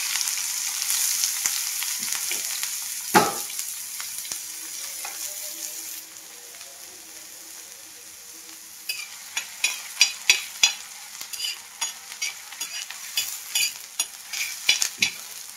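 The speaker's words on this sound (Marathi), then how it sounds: "आता मी तव्यामध्ये तेल ओतून घेतलेले आणि आता ना ह्याच्यामध्ये ना कांदा टाकून घेते" Green onions sizzling in hot oil on a griddle, loud at first, then quieter, then picking up with a run of sharp pops and stirring scrapes near the end.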